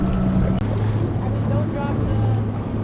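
A 1996 Sea-Doo GSX jet ski towing a tube on Clinton Lake, its engine droning steadily close by amid wind and water rush, with brief tonal shifts in pitch.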